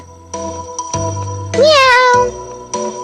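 A cat meows once, a rising, drawn-out cry that stands out clearly against a quiet room with faint background sounds.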